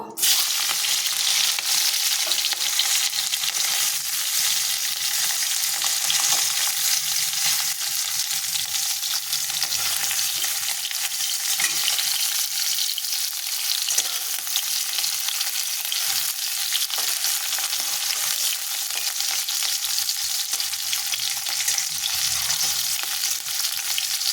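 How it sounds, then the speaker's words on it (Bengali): Prawns fry in hot oil in a kadai, giving a loud, dense, continuous sizzle that holds steady throughout with no talking. "এবার চিংড়ি মাছগুলো আমি ভেজে নেব"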